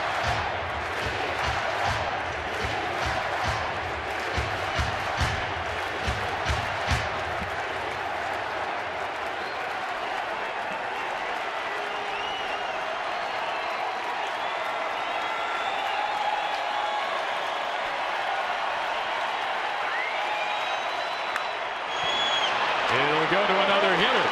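A baseball stadium crowd of almost 37,000 stands and chants, a loud sustained roar with rhythmic clapping early on, continuing steadily under a commentator's voice.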